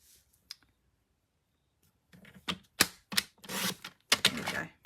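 Paper being cut for a card panel with a paper trimmer, a quiet pause followed by a series of sharp, close clicking cuts and slides, loud and distinct with no speech.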